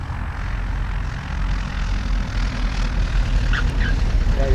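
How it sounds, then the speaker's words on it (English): A propeller airplane approaching to land at El Monte Airport, a loud, steady engine drone that swells slightly as it nears, heard alone outdoors. "There's another plane coming in."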